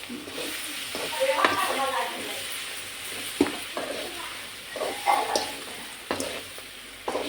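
Green chillies with garlic paste frying in a pan, a steady soft sizzle with stirring scrapes and occasional clinks, under intermittent conversation.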